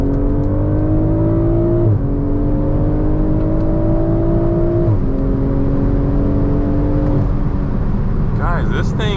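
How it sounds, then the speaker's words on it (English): A BMW Z4 M40i accelerates hard through several gears, its engine note climbing in pitch and dropping at each shift, close and loud inside the cabin, with someone talking over it. "I'm gonna do a little acceleration here, just so we can see if it actually is stronger than the Supra"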